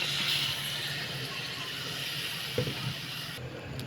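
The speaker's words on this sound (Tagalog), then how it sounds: "Lalagyan ko ng konting tubig." A little water is poured into a pan of stir-fried cabbage with egg, giving a steady close hiss and sizzle of liquid hitting the hot pan, loud at first, then easing off with a brief clatter near the end.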